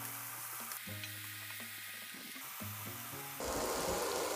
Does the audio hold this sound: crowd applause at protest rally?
no